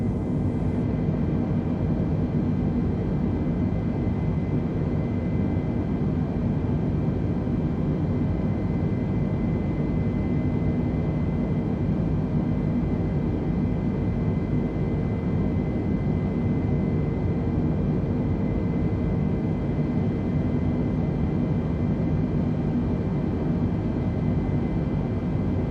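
Steady, continuous roar of Airbus A320 jet engines during a climb through cloud in Microsoft Flight Simulator, a dense broadband drone with a faint steady whine, unchanging and alone for the whole stretch.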